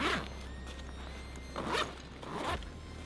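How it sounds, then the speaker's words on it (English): Zipper pulls on a bug-out survival backpack, three brisk rasping strokes at close range with short pauses between, alone with no talk. "The zippers on this backpack are pretty strong"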